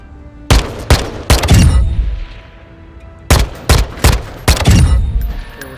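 Full-auto assault rifle fire in Modern Warfare 2, heard as two loud, close bursts of about three sharp shots each, separated by a short gap with ringing tails.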